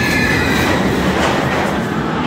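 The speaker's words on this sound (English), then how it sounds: "On the station is also really cool to see the trains getting dispatched." A Mr. Freeze roller coaster train at Six Flags Over Texas rolls out of the station, a steady loud rumble of wheels on track with clattering and faint squeal throughout.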